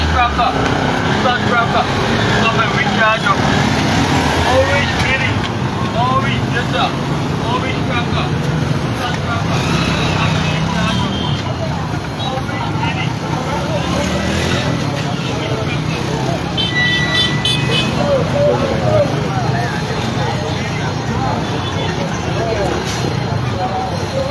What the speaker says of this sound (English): Some of the buses now are even doing U-turn because of the traffic.